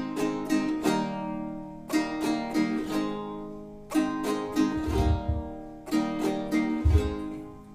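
A guitar strums chords in the rhythm of a Baroque bass line, clear and close, with bursts of strums in a repeating, roughly two-second pattern and deeper accented notes near the end.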